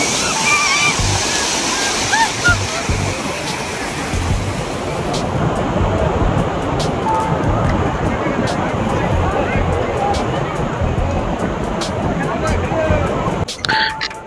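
Rough sea waves wash onto Bakkhali beach in a steady, loud, continuous roar of surf lasting throughout, with faint background voices of people enjoying the shore.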